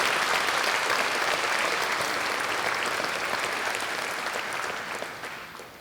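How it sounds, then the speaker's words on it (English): A large audience at a university convocation ceremony claps steadily in sustained applause, a dense even roar that holds strong throughout and then begins to fade toward the end. "Please give him a big round of applause, please."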